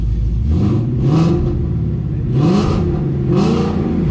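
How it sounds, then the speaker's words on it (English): A Ford Mustang engine on a newly built chassis revs up several times in short bursts of throttle, rising and falling steadily against a constant idle, loud and close with no talking. "Give it a little gas here."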